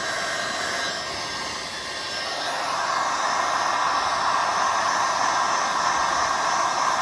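Heat gun blowing on faded, whitish plastic trim of a 1992 Mustang GT, a steady loud airy roar that swells slightly partway through and continues without pause.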